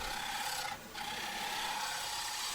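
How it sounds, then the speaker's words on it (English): A woodturning gouge on a lathe cuts old growth yellow pine that is heavy with resin, giving a continuous close scraping rasp that drops out briefly for a moment before resuming. "it's making the gouge want to bounce a little bit, so I've really got to back off with my pressure just to ensure a smooth pass"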